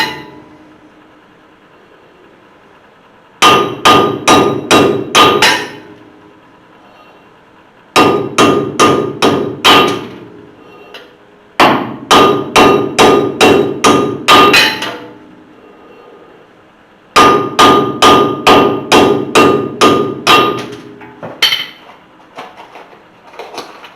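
Hammer knocking wheel studs out of a hub on a 1973 Chevy C10 squarebody, four loud close bursts of rapid ringing metal blows, about eight strikes each, separated by short quiet pauses.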